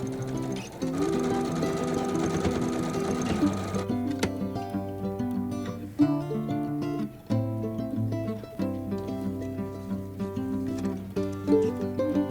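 A sewing machine stitches quilt block pieces together for a bird-themed block-of-the-month quilt, giving a close, steady mechanical chatter that speeds and slows in rhythmic runs without pause.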